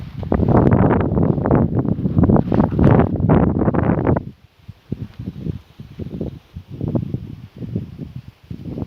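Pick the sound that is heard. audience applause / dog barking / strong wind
strong wind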